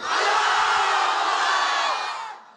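A large crowd of single men at a religious gathering roars a takbir in unison, one loud sustained shout of about two seconds that fades out at the end.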